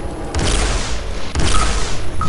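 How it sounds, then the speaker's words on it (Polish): Two heavy gunshot booms from the video game Heavy Metal F.A.K.K. 2, loud and close, about a second apart over a dense, noisy game soundscape. "O, dwa strzały, ładnie."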